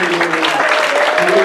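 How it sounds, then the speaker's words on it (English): Church congregation giving a hand clap during a worship service, a loud, dense burst of many hands clapping together with singing or voices mixed in. "Let's give a hand clap to Jesus."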